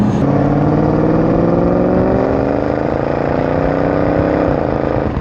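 Jaguar XKR V8 engine pulling steadily under acceleration, a loud continuous rising drone with climbing harmonics that holds for several seconds before easing slightly, heard from inside the car with no talking.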